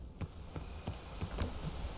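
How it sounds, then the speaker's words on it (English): Rain falling in the climbing game PEAK, a soft, steady patter with a few heavier drop taps at a gentle distance. "I know it's raining"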